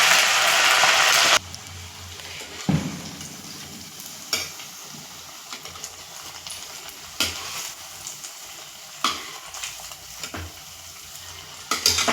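Medu vada, rava batter dropped one at a time into hot oil, fry with a loud burst of bubbling at first, then a steady soft sizzle broken by occasional clicks of a utensil.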